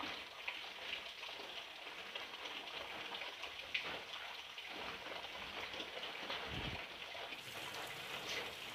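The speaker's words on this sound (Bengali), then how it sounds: "আর বৃষ্টি পড়ছে" Steady rain falling, a dense broadband hiss with scattered drips and patters, fairly quiet and continuous with no voices.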